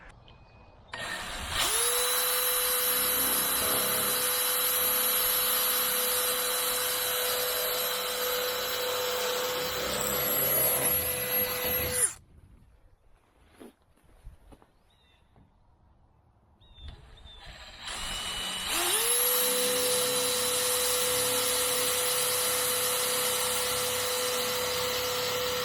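A power drill whines steadily while driving screws into metal roof panels on a 12 x 16 shed, two long sustained bursts separated by a short quiet pause with faint handling noise.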